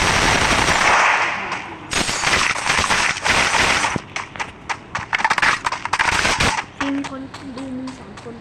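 Loud bursts of automatic gunfire and single shots from a shooter video game come in quick clusters with brief gaps, followed by softer clicks and some game sounds near the end.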